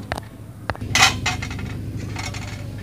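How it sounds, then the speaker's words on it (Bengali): A lid settles onto a cooking pot of potato and pangas fish curry with water and green chillies, giving a couple of metallic clanks and clinks of pot and cover against a low kitchen background. "ঢাকনা দিয়ে দিব।"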